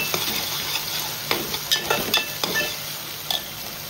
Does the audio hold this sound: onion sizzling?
yes